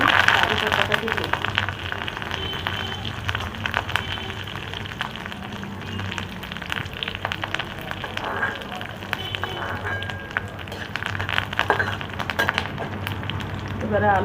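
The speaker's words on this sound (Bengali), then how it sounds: "এবারে আমি কারি পাতাটাকে দিই।" Curry leaves dropped into hot white oil with popping mustard seeds give a steady crackling sizzle, close and fairly loud, while a person talks over it.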